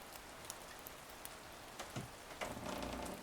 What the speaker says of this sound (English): Friday morning, it's raining.